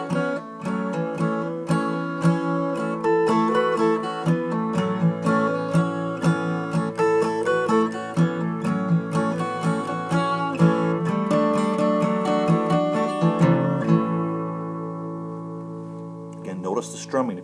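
A capo-fitted acoustic guitar plays the Tall Fiddler tune slowly, steady strummed chords ringing clearly throughout before fading near the end.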